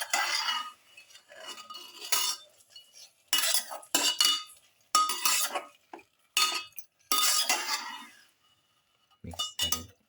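Japanese quail pieces are tossed with a pepper mixture in a bowl, giving bursts of clinking and scraping of a utensil against the bowl in irregular strokes separated by quiet pauses, close and moderately loud.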